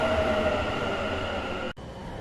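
Train arriving at a station in a horror video game, a steady rumbling rail drone with a brief cut near the end.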